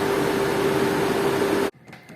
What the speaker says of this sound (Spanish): acaban de encenderse los ventiladores